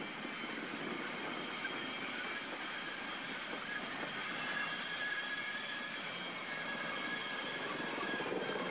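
F-unit diesel locomotives pull passenger cars on the New Orleans & Gulf Coast line, a steady, moderately distant rumble of rolling stock with thin, drawn-out wheel squeals running throughout.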